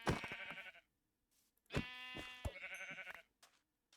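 Sheep bleating in the Minecraft video game: a couple of short, clear nasal bleats with harmonic tone, separated by a brief pause, loud and close with no talking.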